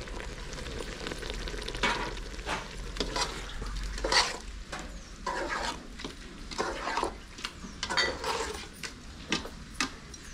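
Yogurt goes into a chicken biryani gravy in the pan, with steady sizzling and frying and repeated scraping stirs of a spoon against the pot, close and continuous.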